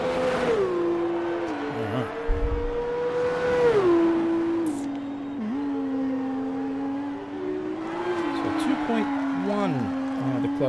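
Race car engines in an F2 racing video game, a whining, gear-shifting drone that rises and drops as cars accelerate and brake, with tire squeal and faint commentary talk underneath.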